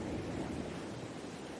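Ocean waves wash ashore in a soft, continuous surge, faint and even, with a breathy wind-like hiss.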